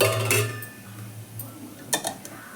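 Grated coconut is stirred in hot ghee in a pan, giving a soft low sizzle with light scraping and a few small clinks of a spoon against the metal, close and quiet, with no talking.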